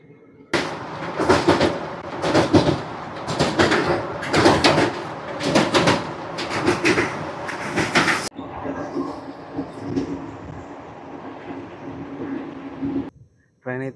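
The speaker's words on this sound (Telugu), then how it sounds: "ఛత్రపూర్ రైల్వే స్టేషన్ నుంచి మన ట్రైన్ అయితే స్టార్ట్ అయిపోతుంది" The Tirupati–Puri Express (17480) pulls out of Chhatrapur railway station after a five-minute halt, giving loud, rhythmic bursts of rolling noise for several seconds that settle into a steadier, quieter rumble before cutting off.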